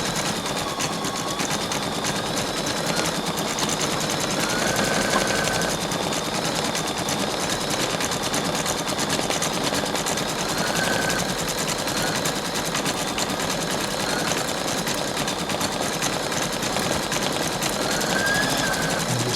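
A Brother Innov-is 2800D sewing machine stitches steadily, a continuous fast mechanical whir with rapid needle clatter that holds at an even level throughout.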